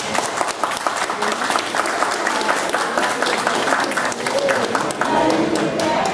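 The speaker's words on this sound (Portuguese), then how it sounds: "Então eu pediria uma salva de palmas ao meu amigo." Audience applause for a musician, a sustained broad wash of many hands clapping over several seconds, loud and close, with some voices mixed in among the crowd.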